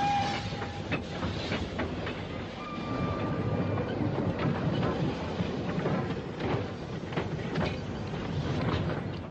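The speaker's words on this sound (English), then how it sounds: "number 49158, another of the LMS-built locos, passes on a coal train near Pelsall" An LMS-built 7F steam locomotive hauling a coal train rumbles past steadily near Pelsall in the 1950s or 60s, wheels clattering over rail joints, with a faint high squeal or whistle early on; no voices.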